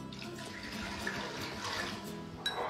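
Water pours steadily into a cooking pot for lentil soup, a continuous splashing gush at moderate level with small bumps near the end, and no one speaking over it.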